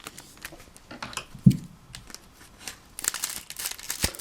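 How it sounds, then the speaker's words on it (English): Scissors snip through Pokemon Moon booster pack foil close up, with crinkling wrapper noise, sharp cuts and rustles spread across a few seconds, no talking. "probably the second to last time I'll cut through these packs"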